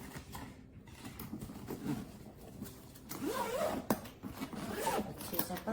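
The front-pocket zipper on a Samsonite underseat carry-on spinner is pulled open nearby, a grating run of teeth with clicky bursts in the second half. There is no speech.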